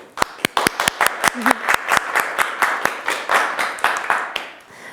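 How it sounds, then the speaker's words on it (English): A room full of people clapping for high school ASB student leaders, loud and close, with irregular sharp claps building into steady applause across the whole stretch. "let's give a big round of applause to our ASB who's joining us today"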